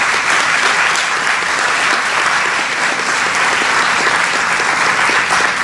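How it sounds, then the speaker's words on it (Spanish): A panel audience applauds the panelists, steady dense clapping from a large crowd held at an even, loud level throughout, with no voices over it. "Un aplauso para todos los panelistas"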